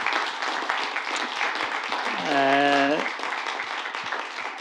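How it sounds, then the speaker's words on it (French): Audience at a book fair talk with a cartoonist gives a round of clapping, steady and fairly close, while a voice briefly sings or calls out a sustained tone partway through. "salve d'applaudissements quand même pour Nadia Khali"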